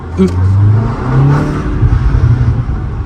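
A BMW M135 F70 hatchback accelerates hard, its engine note rising in a loud, close whir from inside the car with a brief exhaust pop, while voices in the cabin talk over it.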